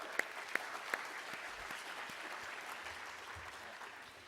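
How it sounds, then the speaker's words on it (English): Steady audience applause fills the space, a dense wash of clapping with a few sharper claps standing out near the start. "Give them a big round of applause."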